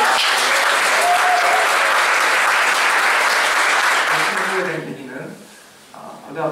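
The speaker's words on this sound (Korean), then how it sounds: "따뜻한 박수로" Warm applause from a lecture audience at a special talk by a film director and broadcasting professor; dense, loud clapping for several seconds that tapers off near the end, with a few voices emerging as it fades.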